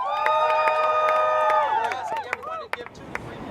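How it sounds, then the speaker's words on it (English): Rally crowd at an American Civil Liberties Union voter event cheers and whoops loudly for about two seconds, with shouts and claps, then the noise breaks apart and fades into scattered calls. "Give her a round of applause."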